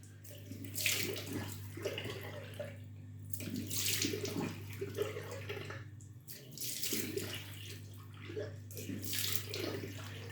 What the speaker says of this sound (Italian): Perfetto, mi bagno il viso.